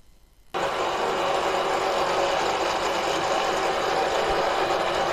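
An electric motor on a power test rig is switched on after half a second of near silence and then runs at a steady, loud, even whine and hum for several seconds, with no talking.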